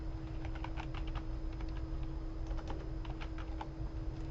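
Keys on a computer keyboard are tapped in quick irregular bursts, a light clicking close by over a steady low hum, with a short pause midway before the typing resumes.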